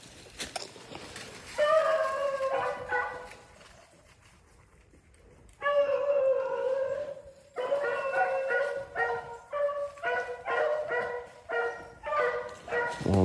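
Several hunting dogs bay and yelp in a rabbit chase, with clustered bursts of high, strained barking that come in waves at a moderate distance, separated by a quiet pause.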